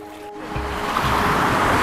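Surf rolls in at Sumur Tiga beach in Sabang, Indonesia, a steady, rising wash of breaking waves that builds into a loud continuous roar over the short stretch.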